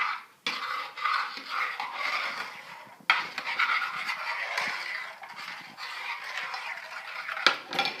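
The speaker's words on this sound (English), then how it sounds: "And just mix this up real good." A spoon scrapes and clatters inside a bowl as sugar, salt and oil are mixed together for a homemade king cake. The stirring is steady and close, with one brief pause partway through.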